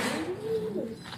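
A breeder pigeon gives a single soft, low coo that swells and slides over about a second, close and gentle against a faint background hum.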